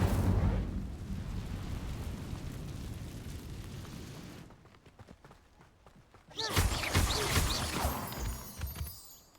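An Incendio fire spell cast in Hogwarts Legacy, a roaring burst of flame that rumbles loudly, drops away, then flares up again in a second crackling blast with faint voices underneath.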